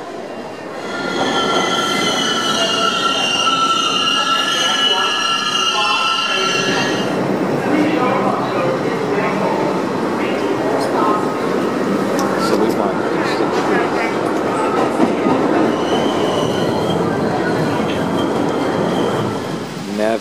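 A New York City subway train rolls into the station loudly with high metallic brake squeals and screeching for several seconds, followed by a steady rumbling roar of cars passing close by.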